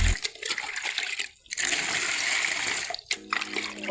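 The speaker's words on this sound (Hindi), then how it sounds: "अभी इसमें पानी डालेंगे।" Water poured by mug into a tub for hand-washing clothes, a rushing splash that runs in bursts with short pauses between pours, near and fairly loud.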